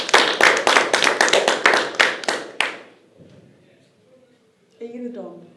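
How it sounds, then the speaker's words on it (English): Applause breaks out at a World Cup qualifier event in Dublin, a burst of sharp, rhythmic clapping from a small group lasting under three seconds, then fading into near silence before a voice begins speaking. "Round of applause for number 1."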